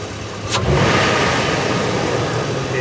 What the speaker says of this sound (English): I'm going to perform a snap throttle to see if the fuel pump is able to deliver sufficient fuel pressure as I do a snap throttle.